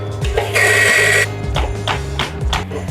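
Burr grinder set to size 12 grinding naturally processed Aceh Gayo coffee beans of Ateng, Bourbon and P88 varieties, a steady close whirring grind with a louder dense burst early on, then uneven rattling pulses.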